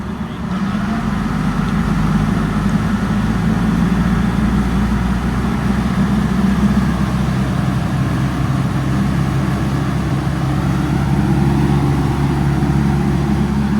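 A tractor running with a flail mower attached, a loud steady low engine drone with a constant mechanical whir layered on top, close by and unbroken, no talking.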